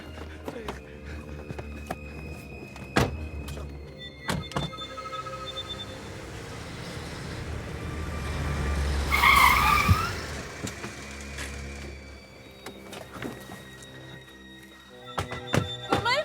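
A car drives off at night, with a brief skid or tire squeal partway through, doors thumping and footsteps around it, and some background voices.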